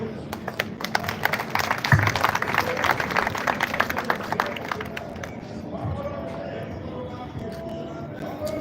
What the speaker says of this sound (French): Je demande à tout le monde de l'applaudir.